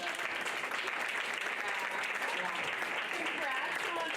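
Steady, dense applause from a live podcast audience at a convention, filling the whole stretch evenly at moderate loudness without a break.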